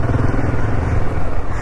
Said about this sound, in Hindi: एक फोर्स की गाड़ी आती है, मतलब जीप